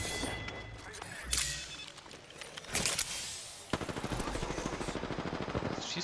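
Rapid automatic gunfire and sharp single shots from the video game Apex Legends crackle in bursts, ending in a steady sustained volley.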